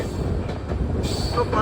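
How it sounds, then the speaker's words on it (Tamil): A passenger train rolls across the new Pamban bridge near Rameswaram, heard from inside as a loud, continuous rumble of wheels and carriage noise, with a voice talking over it. "புது பாலத்தில் இப்போ நம்ம ட்ரெயின் போயிட்டு இருக்கீங்க"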